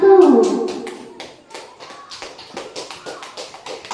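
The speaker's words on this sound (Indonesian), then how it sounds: "sekarang tepuk tangan dulu untuk kelompok 1" Students in a classroom clap for a group that has just finished a presentation: a burst of scattered, uneven hand claps that is loudest at the start and then thins into lighter taps, with a few faint voices alongside.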